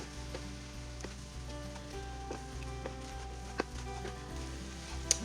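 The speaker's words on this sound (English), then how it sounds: "Let's get pork in this fried rice" Home-canned pork frying in a pan of pork fried rice, a steady low sizzle with occasional sharp clicks and scrapes of a utensil, quiet and continuous without voices.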